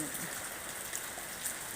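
Rain falls steadily as an even, close hiss of drops with no clear breaks, heard briefly without talk.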